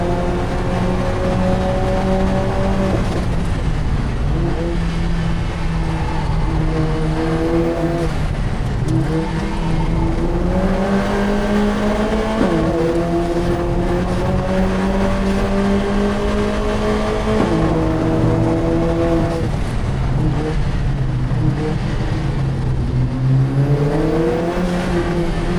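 A race car screams around a track, its engine revving hard and rising and falling through gears as it fights oversteer on left-hand corners; loud and continuous from start to finish, with no talk.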